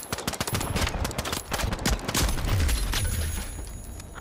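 Rapid gunfire in the shooter game The Finals, a heavy Desert Eagle pistol among it, cracks loud and close in dense bursts over about four seconds with no talk.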